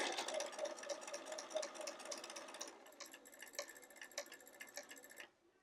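Domestic sewing machine stitching a pillowcase, running in a steady fast whir with rhythmic needle ticks, slowing to separate clicks near the end as the corner approaches, then stopping.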